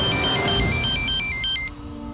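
An incoming-call phone ringtone plays loud and close as a repeating electronic melody of bright stepped tones, cutting off abruptly near the end to leave quiet background hum.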